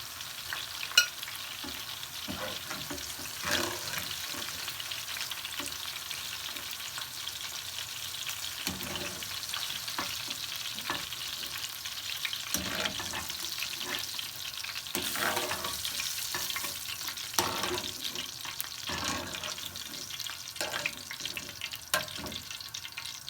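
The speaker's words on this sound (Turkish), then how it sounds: "İyice kızarana kadar kızartıyorum." Vegetables and peppers fry in oil in a pan with a steady, soft sizzle and scattered pops and crackles, fairly quiet and close, with no voices.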